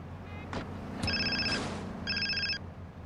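A cell phone in GTA San Andreas rings with two short bursts of an electronic trilling tone over soft game background noise.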